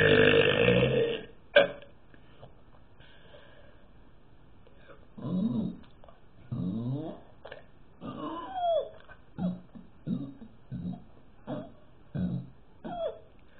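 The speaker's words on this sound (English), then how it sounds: "and this is how I burp." A person burps repeatedly, a run of short close guttural burps in an uneven rhythm after one longer loud burp at the start, with quiet gaps between.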